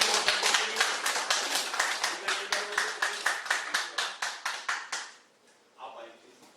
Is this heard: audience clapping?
yes